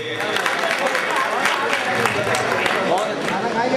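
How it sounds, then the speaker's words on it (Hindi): The audience at a Nagpur mushaira (an Urdu poetry gathering) applauds to welcome a poet. Steady clapping runs through the clip while a voice speaks over it. "आली जनाब शकील आज़मी साहब को जोरदार तालियों से उनका इस्तकबाल करिए"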